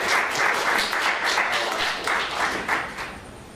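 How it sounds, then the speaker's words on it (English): Audience applause at a panel event on beneficial ownership regulation in Canada, steady close clapping with no talk. "Just a round of applause for James."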